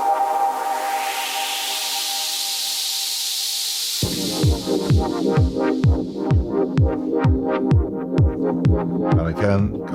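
A sustained synth tone with the filter of an OXI META FX eurorack effect sweeping upward, then a pounding electronic beat of rhythmic kick drums cuts in halfway through.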